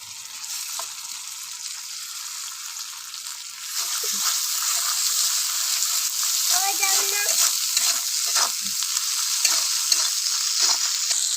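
Chili and ginger paste frying with onions in hot oil, a steady sizzle that swells after a few seconds, with stirring scrapes and clinks of a spatula against the pan.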